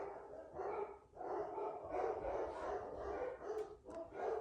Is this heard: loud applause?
no